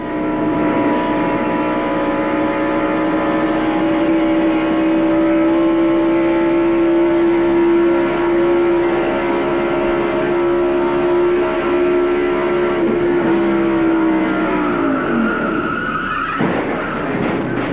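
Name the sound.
in-car audio of Mark Martin's race car at speed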